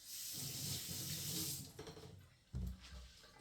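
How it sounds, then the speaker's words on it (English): Potatoes are washed under a running kitchen tap, giving a steady rush of water that breaks into splashes and clunks as the flow changes, heard close by. "Of course, we wash our potatoes."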